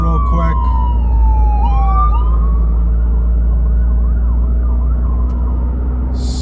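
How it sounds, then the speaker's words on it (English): An ambulance siren sweeps and wails as it passes, loud at first and falling in pitch, then fading into a warbling tail over steady, rumbling road and engine noise. "Let me let this ambulance pass by real quick."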